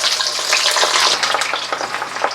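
Beef meatballs fry in oil in a pan with a loud, continuous sizzle full of bright crackling spatter, rising and falling slightly and heard alone without speech.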